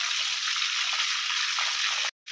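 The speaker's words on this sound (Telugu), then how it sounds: "హై ఫ్లేమ్లోనే వేయించుకోవాలి ఇవి" Prawns frying hard in a pan over high flame for a Telugu-style loose prawns dish, a dense, steady sizzle with bright crackling that runs continuously and then cuts out abruptly near the end.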